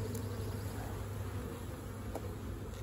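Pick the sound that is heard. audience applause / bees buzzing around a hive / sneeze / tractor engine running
bees buzzing around a hive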